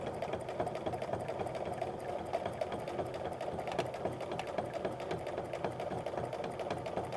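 A sewing machine stitches a quilt with continuous fast, even mechanical chatter, close and steady throughout with no talking.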